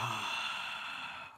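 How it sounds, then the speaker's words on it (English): A single deep inhaled breath from an audience at a spiritual talk, close and soft, filling the short moment without speech. "Take a breath."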